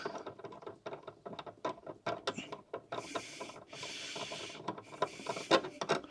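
A hand ratchet backs out the rear light bolts on a Fiat Ducato camper, with rapid clicking strokes in bursts close up and a couple of longer whirring spins in between.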